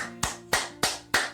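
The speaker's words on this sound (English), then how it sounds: "I heard some clapping out of nowhere." Four sharp hand claps ring out at an even, brisk pace, close and distinct against a quiet room.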